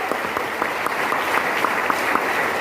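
An audience claps at a gathering, with dense, even applause filling the room at moderate loudness and no voices over it.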